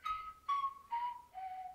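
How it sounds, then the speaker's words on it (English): Eerie descending whistling in the Talking Ben app game, four sustained whistled notes each stepping lower in pitch, clear and quiet with no talk. "I don't know where the scary whistling just came from, and it wouldn't stop."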